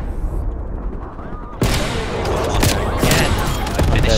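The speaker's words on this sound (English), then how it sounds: "Sending napalm strike location." Napalm strike in Call of Duty Black Ops Cold War erupts with a sudden loud blast, then a continuous roaring barrage of explosions and rapid gunfire cracks that stays dense and close throughout.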